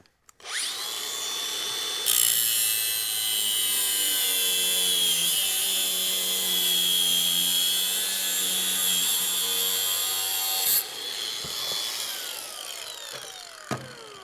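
Sheet metal being cut down for a car firewall with a power tool, a loud steady high-pitched whine held for about nine seconds, then quieter scraping and handling noises, with no talking.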